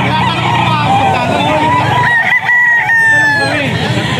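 Roosters crow repeatedly and chickens cluck at a home poultry sale of fifteen birds, loud and close, with people talking in the background and a car faintly present.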